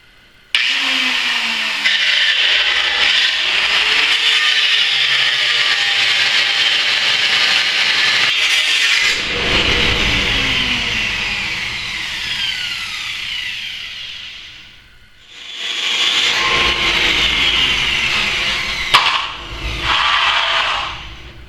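Power tool whining loudly as it cuts through a deer feeder's metal leg, a sustained close grind that dips briefly near the end before resuming, no voices.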